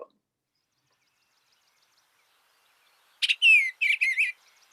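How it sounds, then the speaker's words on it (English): An eastern bluebird gives a short run of clear chirping calls, several quick warbled notes close together after a long quiet stretch, heard alone and fairly near. "That's a eastern bluebird. This is more of their call to each other."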